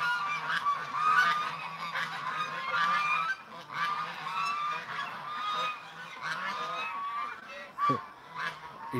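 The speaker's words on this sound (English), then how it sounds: "Okay, geese, what are you giving Bailey a hard time for here?" A flock of geese honks in dense, overlapping calls that carry on throughout, loud and near, with bursts of squawking swelling and fading; a few lower duck-like grunts mix in beneath the chorus.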